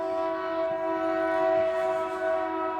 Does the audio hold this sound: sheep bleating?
no